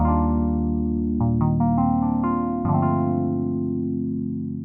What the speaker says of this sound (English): it's called Alley River Synth, and it sounds like this